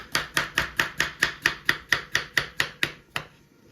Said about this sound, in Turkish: Evet, e, kivilerimizi de doğruyoruz.